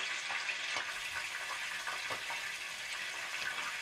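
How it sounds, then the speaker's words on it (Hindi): Bell pepper and carrot sauté in a pan for vegetable noodles, giving a steady, faint sizzling hiss with occasional soft stirring clicks throughout. "और इन्हें अच्छे से फ्राई कर लें, सौते कर लें, अच्छे से मिक्स कर लें"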